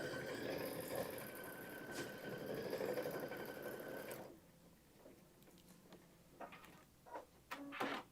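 An embroidery machine stitches a placement line for pink fabric, a steady close mechanical whir for about four seconds, then stops, leaving faint clicks and handling sounds.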